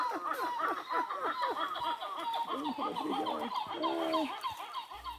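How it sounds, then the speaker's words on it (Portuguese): Recorded call of a Zog-Zog titi monkey played through a speaker outdoors, a rapid run of loud, rhythmic gobbling-like calls repeating close by. "deu play na vocalização gravada de um Zog-Zog"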